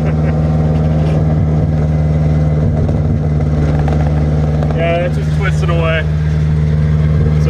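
A KA24-swapped Datsun 620 pickup on the move, its engine giving a loud steady mid-pitched drone under constant road and cabin rumble, while people talk inside the cab.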